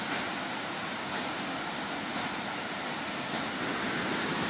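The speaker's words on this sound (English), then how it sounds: "Look at all that white water." Loud, constant rushing of turbulent white water below a dam roars without a break, broad and close.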